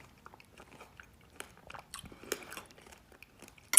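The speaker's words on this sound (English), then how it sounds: "And the pomegranates give you that crunch." Close, quiet crunching and chewing of Nature's Cereal, a bowl of pomegranate seeds, blueberries and coconut water, with irregular soft crunches scattered over a few seconds.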